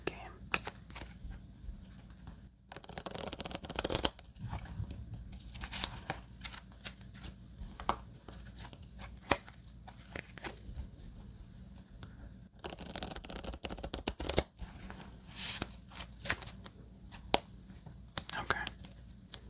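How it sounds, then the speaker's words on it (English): Soft, rapid riffling of playing cards shuffled for solitaire comes in two bursts with quieter handling and faint murmuring between, close and gentle. "This will be our last shuffle before we start our second game."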